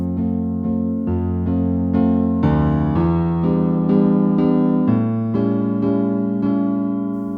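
Solo piano playing a song in the original key with an added passing note, sustained chords and melody moving through steady changes, clear and close with no voices.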